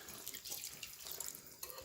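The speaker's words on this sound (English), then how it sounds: "we pour our liquid on there and let it come to a boil." Liquid poured into a roasting pan for a jerk-seasoned roast duck gravy, a faint trickling, dripping splash that runs on for a couple of seconds.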